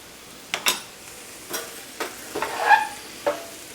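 A butter and flour roux for chicken pot pie cooks in a pan, giving a soft sizzle as it is stirred, with several light scrapes and taps of a utensil against the pan.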